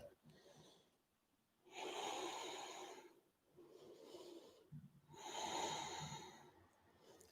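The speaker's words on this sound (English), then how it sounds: "Big, strong, joyful breaths." Deep, strong breaths during a hatha yoga practice: slow, forceful inhales and exhales heard up close, two long rushing breaths with quieter pauses between them.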